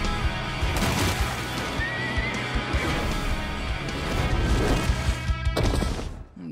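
A horse neighs amid a loud, busy animated film soundtrack with a dense music and action bed; the whinny rises briefly mid-clip, partly buried under the surrounding score and effects.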